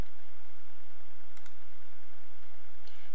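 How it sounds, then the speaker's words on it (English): A pair of crisp computer mouse clicks in quick succession, then another faint click a moment later, heard over a steady electrical hum. "I'll click on the line where the camera roll ran out."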